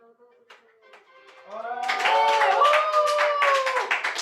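Applause from a group rises and holds, many hands clapping loudly together after a few scattered claps and some voices.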